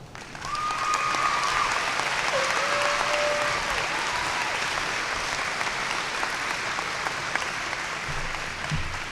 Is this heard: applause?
yes